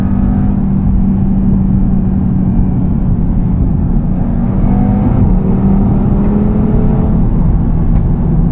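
An Audi TT RS rated at 560 hp pulls hard under full throttle in S mode with kickdown, a loud, sustained engine drone from inside the cabin that rises gradually, with no talking.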